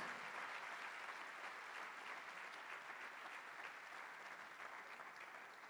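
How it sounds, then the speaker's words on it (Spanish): Steady, dense audience applause for singer Silvia Ibáñez at a 2023 singing workshop performance, loud and sustained throughout with no voices over it. "Fuerte los aplausos para Silvia Ibáñez"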